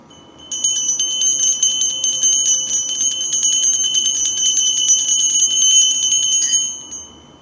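A bell rings continuously in a sustained shimmering peal lasting about six seconds, loud and close, then fades out.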